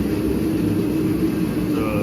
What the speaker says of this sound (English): so we got the heater on. Sorry about the noise.